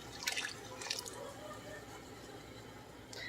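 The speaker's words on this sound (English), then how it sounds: "And now we're going to pour in our cream" Cream is poured into a pot of potato soup, giving a soft liquid splashing and dripping at first that trails off into quiet stove background, with faint sporadic clinks.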